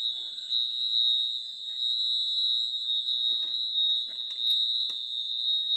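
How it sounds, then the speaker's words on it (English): A fire alarm going off indoors, one continuous piercing high-pitched electronic tone held steady and loud throughout, with faint clicks and small noises beneath it and no talking. "the alarm went off."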